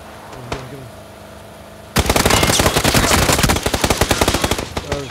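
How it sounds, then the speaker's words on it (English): Gunfire in the battle royale video game PUBG: after a quiet opening with a faint shot, a loud, sustained automatic burst of rapid rounds rattles continuously for about three seconds, slightly uneven toward the end. "Hit him, shoot him, shoot him, shoot him."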